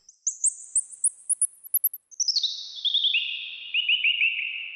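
A human voice imitates birds with quick, bright chirping whistles, first a rising run of short separate peeps, then a denser descending warble that trails off, clear and close with no drums or other sound.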